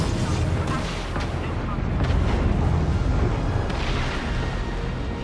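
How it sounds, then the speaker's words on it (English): Explosions in the video game Just Cause 3 rumble continuously, a dense and loud wall of booming blasts with a voice talking over it. "I can't hear you over all the loud explosions"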